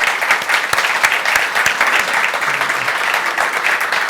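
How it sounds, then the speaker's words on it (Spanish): A conference audience applauds at the end of a talk on insolvency proceedings, giving a steady, sustained round of clapping that fills the whole stretch with no break. "yo agradecería un aplauso porque la ponencia ha sido magnífica"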